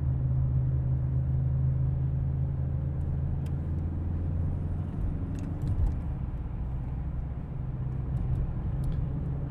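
A vehicle rounds a wide bend with a steady, low engine and road rumble inside the cabin, constant and fairly loud, with a few faint clicks and rattles above.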